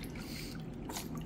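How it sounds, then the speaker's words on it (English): Water poured over a six-month-old baby in a bath makes a brief soft trickle and splash, close and fairly quiet. "why are you pouring water on him?"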